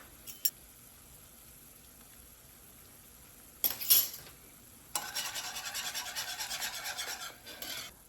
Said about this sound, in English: Going to stir it up. I do not want it to make clumps.